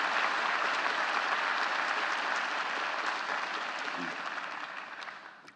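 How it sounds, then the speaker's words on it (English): A hearty round of applause fills the room, dense crowd clapping holding steady before tapering off at the end. "Let's give them all a hearty round of applause."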